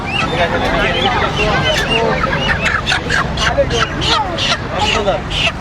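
Chickens clucking and squawking repeatedly close by, mixed with a busy crowd of overlapping voices and background chatter as a chicken is handed over.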